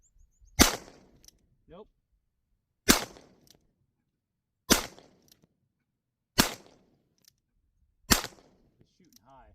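Five sharp, loud gunshots from a Ruger Blackhawk .357 Magnum revolver fired at a distant steel target outdoors, spaced about two seconds apart, each followed by a short ring; a brief remark is spoken between shots.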